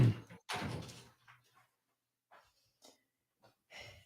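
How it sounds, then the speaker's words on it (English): A door is pushed shut indoors with a solid thunk, followed by a few faint knocks and shuffling sounds in an otherwise quiet room. "let me see if I can shut the door."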